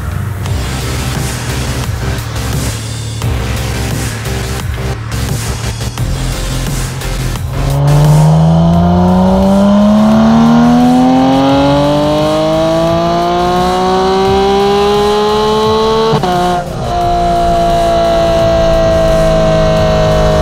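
Porsche 992 GT3 fitted with a race exhaust winds up hard past 8000 rpm, a loud, close rising howl that climbs steadily, cuts out at the limiter, then settles to a high idle drone.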